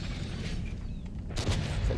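A tank cannon fires in World of Tanks, a single deep boom landing over a dense rumbling engine and battlefield backdrop, fairly close and heavy, with no talking.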